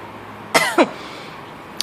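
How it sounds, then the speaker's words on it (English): Two short, sharp coughs close together, then a faint third one moments later, with quiet room noise between. "Excuse my coughing."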